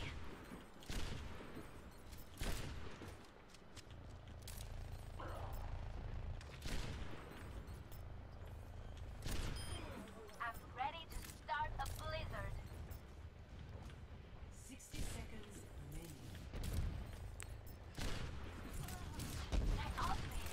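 Repeated weapon fire from Overwatch gameplay aimed at a Pharah, with sharp bursts spaced irregularly through the whole stretch beneath steady talking, moderately loud and mixed with other game effects.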